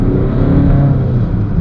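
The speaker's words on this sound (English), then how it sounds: "Okay, we have the Alfa Romeo here. Bit of a noisy old diesel," A 2011 Alfa Romeo Giulietta 1.6 diesel engine running, a steady loud low rumble with a gritty clatter, close by and continuous without any talk.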